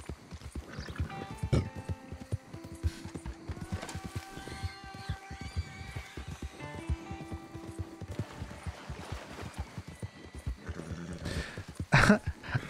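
Horse from Red Dead Redemption 2 gallops with steady clip-clop hoofbeats, whinnies, and rides over game ambience and music, with a louder burst near the end.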